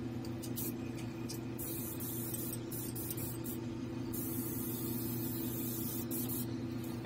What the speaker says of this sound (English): and we'll do a little spraying.